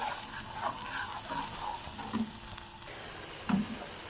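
A spoon stirs milk into cooked flour in a pan for macaroni sauce, giving a soft wet sizzle with a few light scraping knocks, alone and close.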